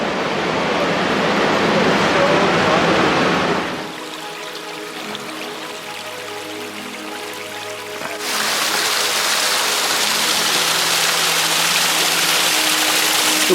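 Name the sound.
small waterfalls by trail, Silver Falls State Park rainforest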